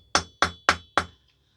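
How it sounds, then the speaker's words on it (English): An Allen key is tapped into the end of a screw on an FX M4 air rifle while fitting a quick tune system: four sharp metallic taps at an even pace, close and clear, then quiet. "then I'm just going to tap it into position"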